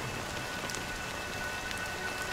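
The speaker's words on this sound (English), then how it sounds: "But it's still raining." Steady rain falls across a surface in a video game, a dense even patter of drops with no speech over it.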